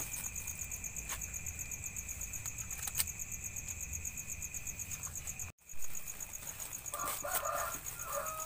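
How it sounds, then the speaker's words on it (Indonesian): Chickens cluck faintly near a campsite at the edge of a cemetery, set against a steady, dense chorus of crickets and insects that continues throughout. "Mungkin terdengar sedikit suara ayam"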